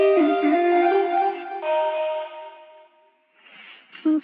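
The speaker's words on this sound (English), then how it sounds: "just kind of sang a gibberish vocal and then chopped up that vocal a bunch and created some" Chopped-up gibberish vocal textures from a synth sample pack, drenched in echo and effects, sustain in wavering tones before breaking into short grainy fragments and a brief louder stab near the end, with no other sound.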